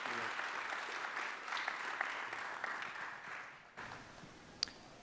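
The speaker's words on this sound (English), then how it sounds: "So can I get a big applause for Trey, Gabriel, Tanuja, and Michael Flana" An audience at a Microsoft cloud cost management conference session applauds steadily for several seconds. The applause thins out and stops, followed by a brief sharp sound.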